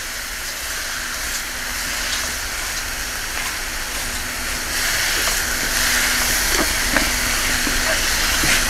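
A gas stove burns steadily under a pot of boiling clams, giving a constant loud hiss and roar that swells slightly partway through, with faint voices in the background.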